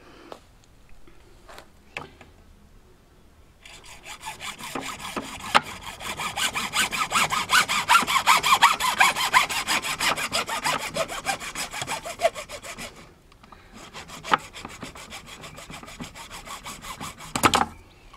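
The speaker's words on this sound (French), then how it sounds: "Je coupe plus ou moins par la moitié avec une scie à métaux." A hacksaw rasps back and forth through PVC pipe near a fitting in quick, regular strokes, building to a steady stretch, pausing briefly, then resuming before stopping.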